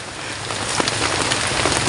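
Steady rain patters on a surface at a forest campsite, a dense hiss of drops with no voices, fairly close and even throughout.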